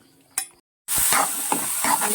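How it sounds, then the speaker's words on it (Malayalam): Palada rice flakes are fried and stirred in a pan: a faint scrape and a moment of silence, then a loud, steady sizzle with repeated scraping stir strokes. "ഇനി നമുക്ക് പാലട ഇട്ട് അതുകൂടി ഒന്ന് വറുത്തെടുക്കാം."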